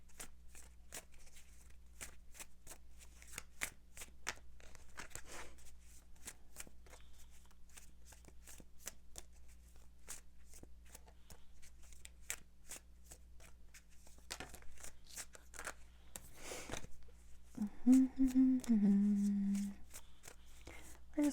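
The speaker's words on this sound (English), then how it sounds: "We're just going to keep on shuffling." Tarot cards are shuffled over and over in quick, papery riffles and taps, fairly close; near the end a voice starts speaking.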